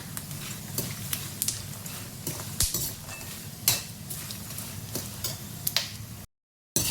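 Peanuts and cashews frying in a pan, a steady soft sizzle broken by frequent sharp ticks and clacks as the nuts are stirred and knocked around, with no talk over it.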